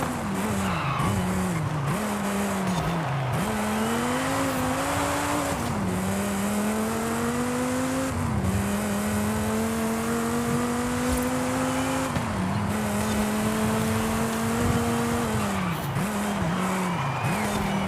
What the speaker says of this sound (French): Ici, il suffit de gagner la course, ça va vous prendre quelques minutes